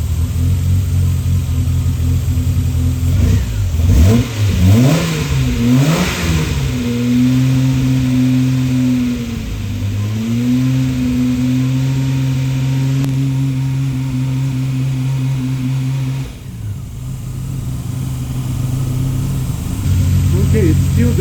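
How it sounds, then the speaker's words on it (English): A car engine revs up and down a few times, then settles into a steady, loud idle hum that drones on, with a brief dip near the end. "Let me rev it a little bit."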